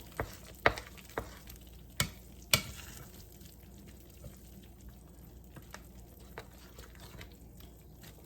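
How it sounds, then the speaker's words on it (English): Melted cream cheese for buffalo chicken dip being stirred in a pot, with soft wet stirring under a faint sizzle and a few sharp clinks of the spoon against the rim, close and quiet. "let's give it a stir, just to make sure all of the cream cheese is melted"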